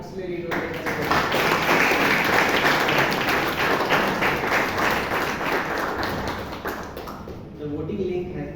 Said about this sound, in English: Can we have another round of applause for all the auxiliary rotators?